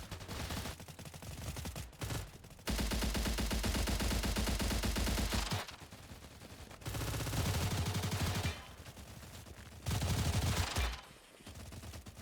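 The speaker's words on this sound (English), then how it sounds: "I love the way the Ash sounds in this game. It's such a just a chonky sound. Like when you're shooting" Bursts of automatic fire from the Ash rifle in the video game Stalcraft: X, chunky and heavy, arriving in several sustained strings separated by short pauses, fairly quiet overall.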